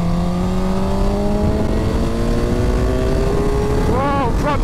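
A Suzuki GSX-R1000 K8 sport motorcycle engine climbs steadily in pitch as it revs toward 8,000–9,000 rpm, loud and close with wind rush, then wavers and drops briefly near the end.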